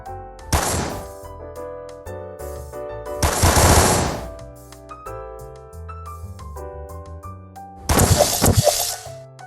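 Comic sound effect of gunfire shooting bullets at a doll: three loud, separate bursts of rapid shots with a shattering crackle, each set against background music with little talk.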